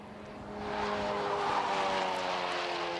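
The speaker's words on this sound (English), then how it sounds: "you can really hear pushing the tyres to the limits there with that car" A Honda race car at Snetterton roars at high revs while its tyres squeal and scrub at the limit, the sustained engine and skid noise steady and fairly loud throughout.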